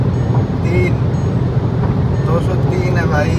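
A Volkswagen Virtus GT sedan runs at high speed in sixth gear on a Delhi road, a loud, continuous low engine and road rumble with wind roar, while someone talks over it.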